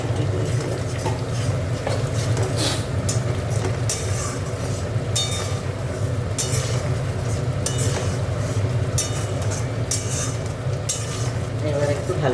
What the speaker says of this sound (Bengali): এবার একটু ভালো করে কষে নেব।